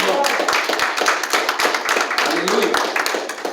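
A church congregation clapping together in an offering of applause to the Lord, dense steady rhythmic claps filling the room throughout, loud and close, with voices mixed in beneath.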